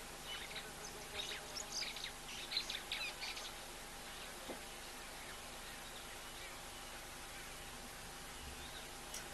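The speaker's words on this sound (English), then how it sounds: "So this is a superb starling." Superb starling calling at a waterhole, with faint, distant high chirps clustered in the first few seconds over a steady outdoor hiss.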